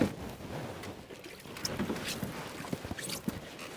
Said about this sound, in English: I'm gonna paddle us to the next spot.